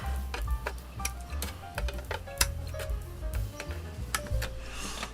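Small cutting pliers snipping hard plastic parts from a Dungeons and Laser elf forest kit, crisp clicks and snaps in an irregular series, close and fairly loud.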